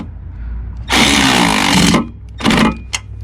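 A power tool tightens a sidestep bracket nut on a Ram 1500, with one long buzzing burst of about a second, a pause, then a shorter burst and a brief blip, loud and close.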